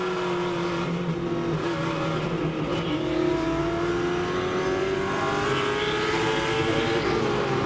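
Late model race cars roar around Langley Speedway in a continuous loud engine drone, the pitch rising steadily as the pack accelerates down the back straightaway, with no voices over it.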